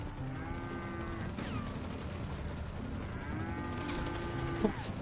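Cattle in a modded GTA 5 video game moo in long drawn-out lows, one early and another after a pause, over a constant rumbling game background with a faint burst of gunfire near the end.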